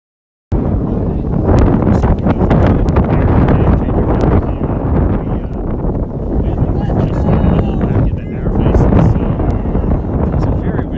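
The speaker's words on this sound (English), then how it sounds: "It's a very windy day, and the wind is blowing hard in from left." Strong wind, blowing hard in from left field, roars across the microphone at an outdoor Jackson-Reed versus Paul VI high school varsity baseball game, a loud continuous buffeting rush that fills the whole clip after a brief silent start.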